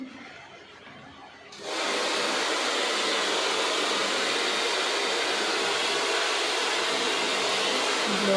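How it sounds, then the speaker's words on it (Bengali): A hair dryer blow-drying hair in a beauty parlour during a keratin straightening treatment switches on after a quiet start, then roars as a loud, steady broadband hiss. "ব্লো ড্রায়ার করছে"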